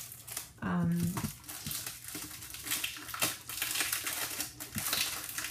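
A Daiso kraft paper package made in Japan is torn open with crinkling, crumpling and rustling of stiff paper, loud at first and then in uneven bursts, while a person talks.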